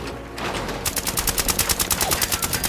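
Rapid automatic gunfire rings out in Fallout 76: a short burst, then a steady stream of evenly spaced shots, loud and close.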